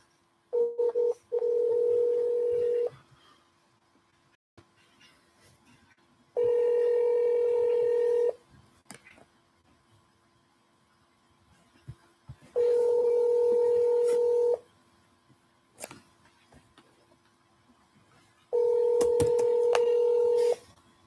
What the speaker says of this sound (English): I can sit here and dial till 8 p.m.